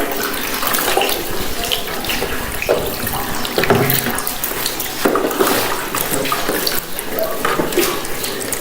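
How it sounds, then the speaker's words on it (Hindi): Water pours steadily and splashes during the ritual washing of a deceased body in a Shia ghusl, a continuous close running-water sound with uneven surges and no talk over it. "बहुत ज़्यादा पानी शुरू कर दें"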